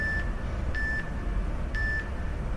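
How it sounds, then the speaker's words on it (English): Workout round timer in a strength class sounds three short, fairly faint electronic beeps spaced about a second apart over steady gym background noise. "And there's our round timer."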